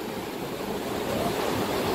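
A river rushes beneath a bridge on the road to Jomsom in Nepal, a steady, dense roar of flowing water with wind mixed in, continuous and fairly loud with no voices.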